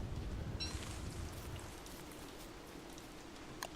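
Steady rain from a thunderstorm in the video game Don't Starve patters and hisses at a moderate level, with scattered droplet ticks and no voices.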